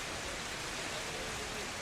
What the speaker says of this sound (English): dark clouds begin to form overhead, and a light rain begins to fall. And you can hear the roar of low thunder off in the distance.